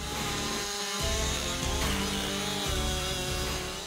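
A large Stihl MS881 forestry chainsaw saws through wood, its engine a loud continuous snarl that shifts in pitch as the bar bites and revs, close up with no talk.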